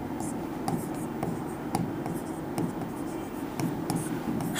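A pen writes numbers by hand during a class 10 maths lesson, making soft, close scratching strokes in short bursts with brief pauses between them.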